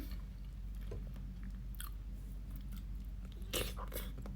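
Close, quiet chewing of boiled egg with fermented fish chili paste, soft wet mouth sounds and faint bites over a steady background hum.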